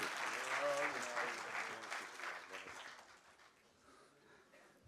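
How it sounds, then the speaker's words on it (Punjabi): An audience at an international Punjabi conference breaks into applause, a dense wash of clapping that swells early and then gradually thins and fades. "ਖੁੱਲ੍ਹ ਕੇ ਜ਼ਰਾ ਤਾੜੀਆਂ।"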